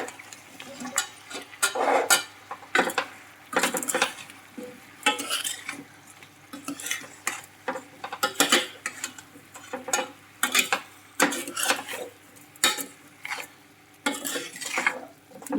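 Pumpkin pieces and dal are stirred in a pot with a ladle, giving repeated close scraping strokes and soft clanks against the metal, with a light sizzle underneath between strokes.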